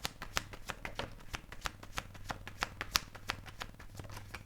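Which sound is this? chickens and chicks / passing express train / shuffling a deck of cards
shuffling a deck of cards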